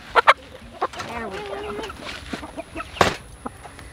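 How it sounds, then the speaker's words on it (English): A rooster and hens from a backyard flock being disease-tested cluck and squawk in short bursts, with a few sharp loud calls, while people talk close by. "Got our rooster right here, Mr. Handsome Man."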